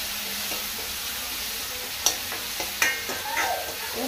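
Onion fries with tomato and salt in a pan for baingan bharta, a continuous sizzle broken by several sharp clacks and scrapes of stirring.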